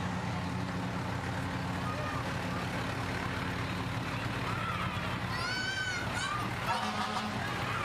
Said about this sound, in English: We have the Union Township fire truck that just passed its way through.